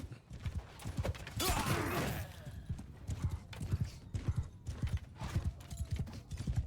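Horse hooves clip-clop steadily as a rider moves in Mount & Blade 2 Bannerlord, a continuous rhythmic trot with a brief surge of clattering noise partway through.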